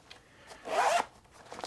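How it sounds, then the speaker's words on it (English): A zipper on an everyday-carry bag pocket is pulled in one quick, close, rasping stroke lasting about a third of a second, with faint handling sounds before and after. "They do zip all the way down."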